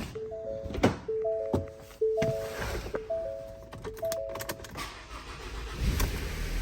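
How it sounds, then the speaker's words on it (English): Van engine starting after a jump-start from a CAT Power Cube all-in-one emergency tool, with repeated cranking thunks and electronic chime tones before catching, fairly close and moderately loud. "So it will definitely jumpstart a vehicle"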